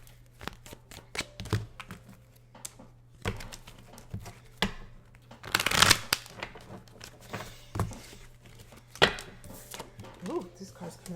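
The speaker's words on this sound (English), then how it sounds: "Let's shuffle these." Tarot cards being shuffled, giving a run of scattered crisp snaps and riffles at close range, with one louder burst of rapid flutter partway through and quiet gaps between.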